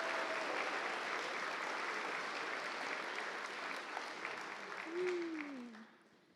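Dense, steady applause from an audience at a miniature painting awards ceremony, greeting silver medal winners, holding loud for several seconds before tapering off, with a brief voice rising near the end.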